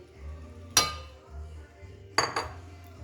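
Onions tossed into a hot goulash stew pot, giving two sharp metallic clatters roughly 1.5 seconds apart, each followed by a brief ringing clink, over a low steady kitchen hum.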